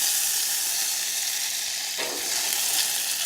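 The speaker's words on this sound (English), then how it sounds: "I've got a saucepan here on medium to high heat. We'll go in with a couple tablespoons of butter" Butter sizzles in a saucepan over medium-high heat, a steady bright crackling hiss close up, with a brief stir or splash flaring about midway.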